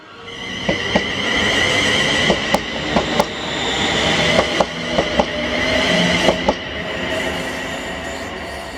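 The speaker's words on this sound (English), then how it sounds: "our first catch today was 1T25, the 1800 ScotRail service to Largs from Glasgow Central." A ScotRail passenger train, service 1T25 to Largs, passes through Paisley Gilmour Street station, giving a steady rumble with a string of sharp wheel clicks and squeals, loud and close, with no talk.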